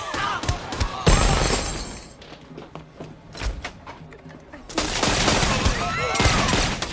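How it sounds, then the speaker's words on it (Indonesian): A hotel shootout from a movie, with rapid bursts of gunfire and shattering impacts that come in two loud, dense volleys separated by a quieter stretch of scattered thuds. "Security hotel datang dan terjadi baku tembak"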